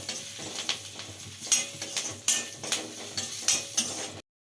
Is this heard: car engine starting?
no